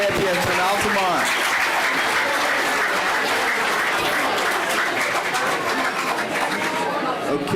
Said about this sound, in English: let's give another big round of applause to the National World Series champions from Altamont